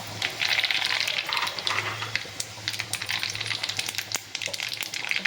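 Mustard seeds tossed into hot oil with reddened garlic for tempering a village-style vegetable dish, a close crackling sizzle with rapid sharp pops spattering irregularly over a low steady hiss.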